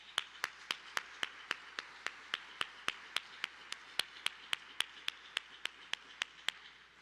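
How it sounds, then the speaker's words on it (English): Steady, evenly spaced claps ring out at a quick regular beat, faint and fairly distant, as an audience at a charity gala applauds the behind-the-scenes staff. "give a huge round of applause for all those that are behind the scenes that have made this amazing night possible"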